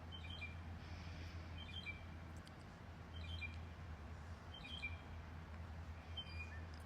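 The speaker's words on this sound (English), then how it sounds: "Is it just me, or is it unsettling to hear birds chirping at 1 a.m.?" Birds chirping in the middle of the night around 1 a.m.; short, high, faint chirps repeat every second or so against a steady low hum, distant and quiet.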